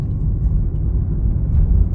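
Lotus Emira sports car on the move, a low steady engine and road rumble heard from inside the cabin, even and unbroken for two seconds.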